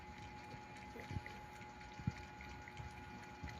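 A pet dog lapping water from a bowl, soft wet laps and a few small splashy knocks close by, quiet over a faint steady background hum.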